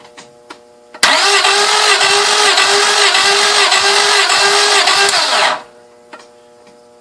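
A truck engine cranks over during a compression test, a loud, steady mechanical whirr lasting about four and a half seconds, then stopping abruptly, with faint clicks before and after.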